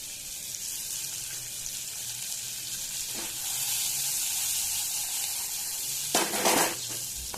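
Sliced onions and chopped garlic sizzle in a pan for a Spanish omelette, a steady soft frying crackle broken by a couple of louder bursts as the pieces are stirred or added.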